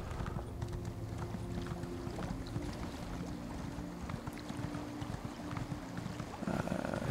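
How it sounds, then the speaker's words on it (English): Horse in the video game Elder Scrolls Online, with steady clip-clop hooves and snorting over a constant low game rumble and music, fairly close and continuous with no talk. "My horse didn't like that."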